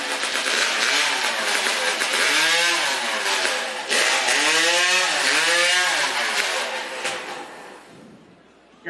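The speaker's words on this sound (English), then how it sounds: "Saw had been running well, but does not want to fire out of the gate. There it goes." A STIHL Timbersports hot saw, a modified racing chainsaw, runs at a North American competition. Its engine roars loudly and revs up and down in repeated swells, then fades toward the end.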